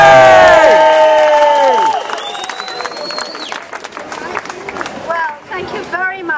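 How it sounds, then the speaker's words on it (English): Shrill tones and shouting from a crowd at an outdoor rally give way to a scattered burst of clapping and cheering that carries on at moderate loudness. "So if we can have a round of applause for Baroness Afshar."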